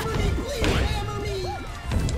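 Smash attacks land on an opponent in a video game brawl, a couple of heavy crashing thwacks with thudding impacts packed into a couple of seconds, loud and close.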